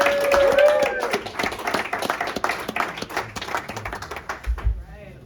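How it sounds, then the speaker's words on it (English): A comedy club audience at Ada's Lab in Seattle breaks into dense, lively applause with a few whoops, loud at first and then slowly thinning out before it stops. "All right, round of applause."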